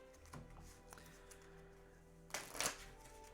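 Pokémon trading cards from a Gardevoir ex deck are shuffled by hand: faint scattered ticks, then a short, louder riffling burst near the end, heard alone.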